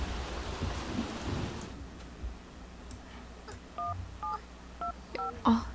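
Soft rain patters in The Sims 3, a faint steady hiss that fades after the first moments, followed by short electronic tone beeps, like phone dialing, in a quiet setting.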